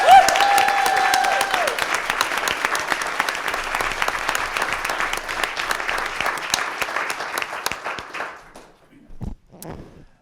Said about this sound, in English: can we give our exemplary employees another loud round of applause?